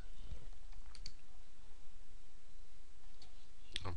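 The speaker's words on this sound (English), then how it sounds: "I've just clicked it." A computer mouse clicked to open a file: a few light, sparse clicks spread across a quiet room background, fairly faint and close, with no talking.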